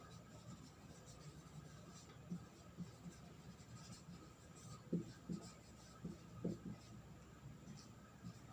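Faint, irregular strokes of writing on a board during a class 12 chemistry lesson on colloid coagulation, a few soft scratches clustered in the second half over a quiet room hum.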